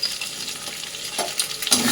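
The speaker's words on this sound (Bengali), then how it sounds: "ডিমটাকে ফেটে ভেজে নেব" Beaten egg fries in a kadai with a close, steady crackling sizzle, punctuated by a few brief stirring scrapes.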